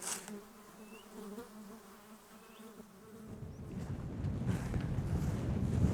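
Flies buzzing around a backpack on a hike in Swedish Lapland, brief thin buzzes passing close over soft outdoor ambience, then wind rumble swelling and growing louder toward the end.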